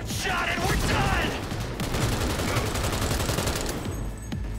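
Gunfire in the video game Cyberpunk 2077, dense, loud, rapid shots in a sustained volley with ringing and debris noise mixed in.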